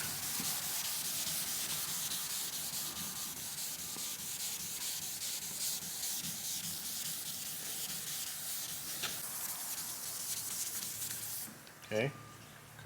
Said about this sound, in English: Nicely sanded. And remember, we're still on 1000 grit sandpaper.